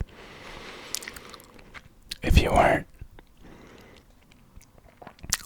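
Gum chewed up close for ASMR, soft wet smacks and clicks around a whispered voice, with one louder, crunchy burst of chewing in the middle.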